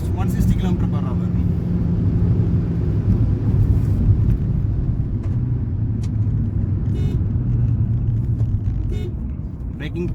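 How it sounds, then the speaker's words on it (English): A stock Honda Civic at high speed near 160 km/h, with a steady, loud engine and road rumble droning continuously throughout, heard from inside the car. "Right now, car is reaching almost 160 km/h."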